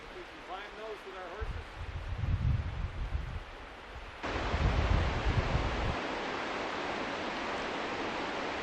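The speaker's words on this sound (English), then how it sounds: "This waterfall is spectacular enough in the fall, but I can just imagine what it'd be like in the spring runoff." A waterfall on the North Fork of Bat Creek in autumn, a steady broadband rush of falling water that swells louder partway through, with someone speaking over it early on.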